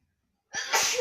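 A single sharp sneeze bursts out of silence halfway through, loud and close, indoors during a family board game.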